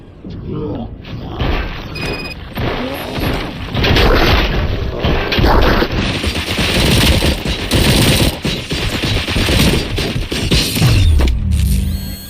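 Rapid automatic gunfire with crashing, smashing impacts during a battle in the RoboCop: Rogue City video game, loud and dense throughout, with a voice speaking over parts of it.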